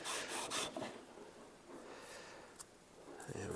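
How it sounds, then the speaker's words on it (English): A sanding block rubs across the wood of a handmade classical guitar to trim and square an edge, a few close, raspy strokes with a fainter scraping in between. "that's how we'll trim it actually, with the sanding block"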